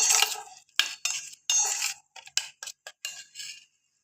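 Oil being mixed into a Korean noodle sauce in a bowl, heard as a series of close, quick clinking and scraping stirring strokes in bursts with short pauses, with no talk.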